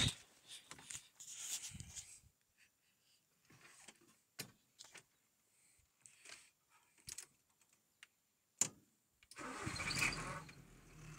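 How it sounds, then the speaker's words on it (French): A Renault Safrane car engine cranks and catches to life near the end after a series of clicks, knocks and handling noises inside the car, quiet overall with the engine start the loudest part. "Ça démarre au quart."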